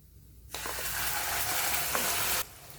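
A sudden loud sizzle as spices hit hot oil for a soya chunk gravy, crackling steadily for about two seconds before cutting off abruptly.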